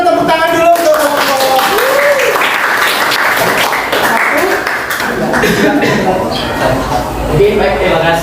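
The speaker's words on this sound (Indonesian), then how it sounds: "Sebelumnya kita tepuk tangan dulu untuk" Classroom applause with clapping hands, a steady wash of claps from a group of students, with some voices mixed in throughout.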